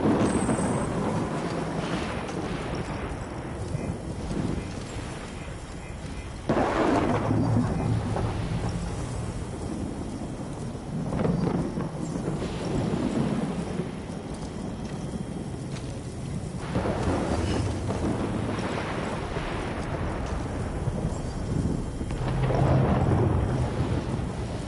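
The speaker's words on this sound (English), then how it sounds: "This storm in the sky just bloody started." A Death Stranding thunderstorm rolls through with steady rain and repeated deep thunder rumbles swelling and fading over a constant wash of wind and downpour, with no voices.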